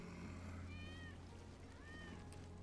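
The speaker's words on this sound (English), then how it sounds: "That's Wedge's cat." Wedge's cat in the video game Final Fantasy VII meows twice, a pair of clear drawn-out calls over a steady low background hum from the game.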